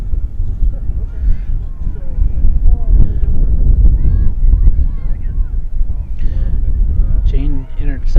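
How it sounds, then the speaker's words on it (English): Wind gusts buffet the microphone outdoors at a youth soccer match, a steady low rumble running throughout beneath a commentator's ongoing talk. "Getting windy"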